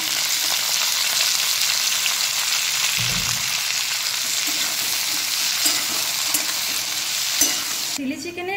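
Cubed onion and capsicum frying in a pan for a chili chicken gravy, a steady loud sizzle with stirring scrapes throughout, a sharp clatter near the end.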